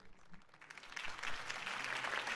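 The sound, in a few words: crowd applause in video game Batman The Telltale Series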